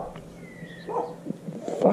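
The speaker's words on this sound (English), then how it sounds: "Oh, I'm over these fucking dogs, seriously." Dogs barking and yipping nearby outdoors on a chilly morning, a few short brief barks and whimpers rising toward the end.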